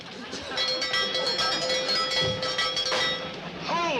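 A train rumbles and clatters steadily, with a sustained whistle-like tone, while excited voices shout over the noise.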